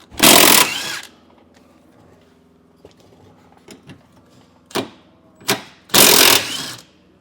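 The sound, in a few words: removing bolts from leaf spring hangers with 18mm socket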